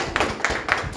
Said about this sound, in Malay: Oke, tepukan lagi dia.